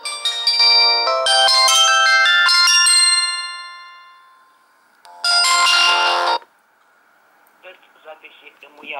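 Fake incoming call ringtone on a Samsung GT-E1150i phone: a loud, bright, synthetic ringing melody plays, pauses, rings again in a shorter burst, then gives way to faint sounds.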